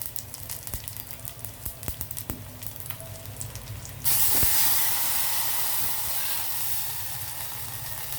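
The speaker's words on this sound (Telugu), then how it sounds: "ఇదిగో తాలింపు వేగిపోయిన తర్వాత మనం ఇందులోకి చారు వేసేద్దామండి" Tomato rasam poured into a hot tempering of spices, erupting midway into a loud, sustained hissing sizzle that follows a few quieter clinks and crackles of the frying tempering.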